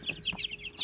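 A young frizzle chicken, likely a cockerel with wing feathers just coming in, gives a few soft, close clucks in quick succession over a faint background hum.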